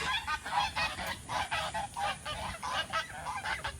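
A flock of geese honking repeatedly in rapid, overlapping bursts, fairly close, with a steady low background rumble underneath.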